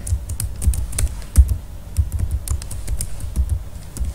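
Computer keyboard being typed on to enter a Java command, a brisk run of close, crisp key clicks with uneven rhythm and no talking.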